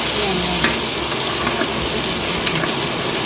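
Tempered millet flatbread (vagharelo rotlo) sizzles steadily in a pan in a home kitchen, a continuous close frying hiss with small crackles throughout.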